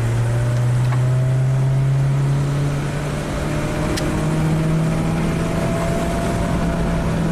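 A 1997 Kia Sportage 4x4 with a surging idle fault revs under acceleration, its engine drone holding a steady low hum that rises slightly in pitch, loud and close from inside the vehicle, no talk.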